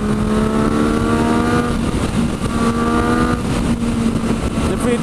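A loud Yamaha FZ-09 / MT-09 motorcycle engine pulls hard and climbs in pitch, steady and close, with strong wind noise rushing over it throughout.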